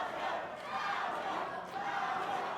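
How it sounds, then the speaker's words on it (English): A boxing arena crowd chants for fighter Avila during a bantamweight bout, a dense, continuous roar of many voices with rising and falling swells, close and loud throughout. "Crowd already chanting for Avila"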